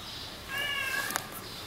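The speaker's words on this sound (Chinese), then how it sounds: "那猫叫声好凄惨呢。" A cat on a street in Bulgaria lets out one drawn-out, plaintive meow, fairly faint against the steady outdoor street ambience.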